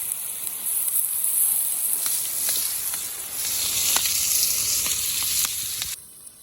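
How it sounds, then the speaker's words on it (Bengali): Onions frying in hot oil for a chicken dish, a loud, steady close sizzle with scattered crackles and spatula scrapes, fading sharply at the very end, with no voices. "এখন রান্না করার জন্য পেঁয়াজটা দিয়ে দেবো"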